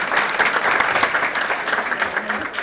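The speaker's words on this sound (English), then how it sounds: "Applause is not mandatory in this event, but it is greatly encouraged." Audience applause at a chamber of commerce women's achievement awards ceremony, a steady, full round of clapping from a large crowd that carries on evenly throughout.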